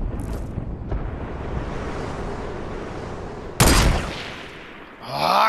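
Gunfire in the shooter game Fortnite, a sustained rumbling barrage with a sharp loud report near the end, followed by a brief rising whoosh.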